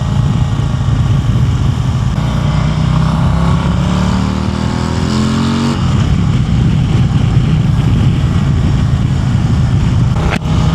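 A 2026 Harley-Davidson Street Glide CVO ST motorcycle on the road, a loud continuous engine rumble mixed with wind noise, with engine pitch rising briefly mid-ride.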